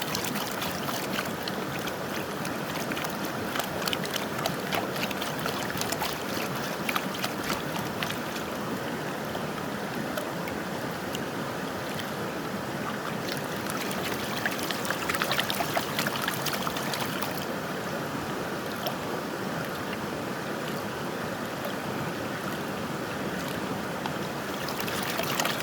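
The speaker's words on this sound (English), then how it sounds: "I just put a few rocks above where the creek's flowing to slow the water down a bit" A creek flowing over a few rocks placed to slow the current during gold prospecting cleanup, a loud, continuous close splashing wash with small bursts, no talking.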